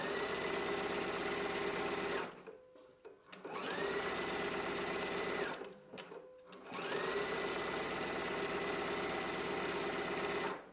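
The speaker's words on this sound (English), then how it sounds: "now we can go ahead and stitch it in a 5/8 inch seam allowance" A home sewing machine stitches a 5/8 inch seam on a garment band, whirring steadily in three long runs broken by two short pauses, close and even.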